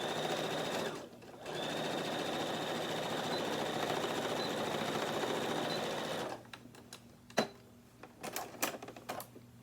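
A sewing machine runs in one steady, continuous burst while stitching the seam of a tote bag, briefly pausing near the start. It then gives way to a few sharp clicks and light handling noises at close range, with no one speaking.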